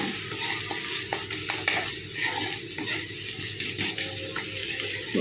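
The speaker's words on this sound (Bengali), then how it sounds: "আবার একটুখানি পেঁয়াজ আর টমেটোটা একটু নেড়ে দিই" Onions, tomatoes and paneer sizzle steadily in a pan while a utensil stirs them, producing a continuous close frying hiss with soft scraping movements throughout.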